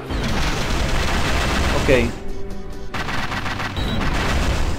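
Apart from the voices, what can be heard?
gunfire from enemies in video game Black Rock Shooter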